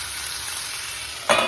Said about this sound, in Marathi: कमी गॅसवर ना छान वाफी द्यायची याला